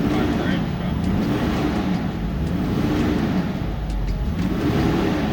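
A 2009 Ford 6.4 diesel engine with a faulty fan clutch surges in a loud, close, rising and falling drone as the fan engages, heard under the engine bay without clear talk.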